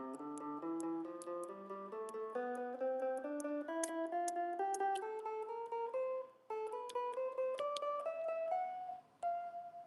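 A plucked guitar climbs and descends a pentatonic scale pattern, notes evenly spaced and ringing clearly, with two brief pauses.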